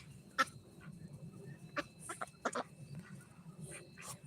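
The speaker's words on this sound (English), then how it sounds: "But these are the ducks." Ducks on a farm, several short quacks and calls scattered at moderate distance over low background rumble, no talk.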